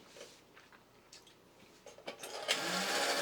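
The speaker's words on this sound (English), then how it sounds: "here's the motor running in one direction" The small electric motor of a battery-powered toy arcade crane whirs as it turns the crane, a faint buzzing hum that grows steadier and louder toward the end.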